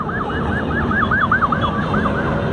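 A police siren wails in a fast, rising-and-falling pattern, loud and close, over the rumble of road traffic at a large motorcycle gathering.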